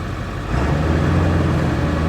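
A Ford 7.3 diesel race truck engine holds a high idle, a steady close low rumble that swells slightly partway through and stays constant with no talk.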